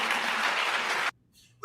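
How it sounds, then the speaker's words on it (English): Applause from an audience at a speech, loud and dense for about a second before cutting off, followed by near silence and a brief burst of sound at the end. "You hear somebody clapping real hard, real fast?"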